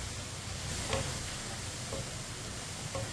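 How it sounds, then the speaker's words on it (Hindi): Potatoes fry in a pan with a constant soft sizzle and hiss, while a spoon stirs them with a few light scraping taps spaced about a second apart. "आलूओं को ऐसे ही चम्मच चलाते हुए फ्राई करना।"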